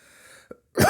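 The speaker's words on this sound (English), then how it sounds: "I don't know why the fuck I just coughed" A single sharp cough bursts out loud and close after a brief pause, following a faint murmur of background sound, from a man recording a podcast.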